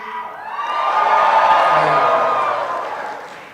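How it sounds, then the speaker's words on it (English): A graduating class from the class of 2022 cheers at a convocation ceremony, a broad swelling roar of many voices with whoops, building over the first second and holding steady before easing off slightly at the end. "Graduates, can you give yourselves a quick cheer?"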